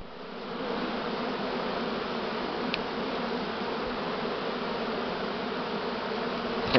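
A large prime swarm of Buckfast honeybees streams into a hive, making a thick, unbroken buzzing hum that holds steady and close throughout, with a brief faint click partway and no voices.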